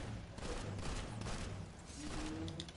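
Automatic gun firing in Planetside 2, a fast, steady burst of shots sounding fairly faint and distant beneath a busy game soundscape for a couple of seconds.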